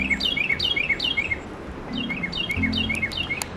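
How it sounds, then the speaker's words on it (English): Carolina wren song outdoors: repeated rolling three-note phrases in rapid rhythmic series, two bursts of chirped phrases with a brief pause between, clear and moderately close over faint background hum. "Carolina wrens sound to me like they're saying, "Cheeseburger, cheeseburger, cheeseburger.""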